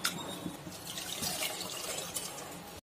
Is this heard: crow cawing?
no